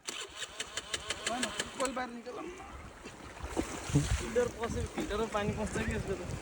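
A scooter engine stuck mid-river sputters and catches with rapid repeated bursts, then runs roughly amid splashing water, with people talking loudly over it.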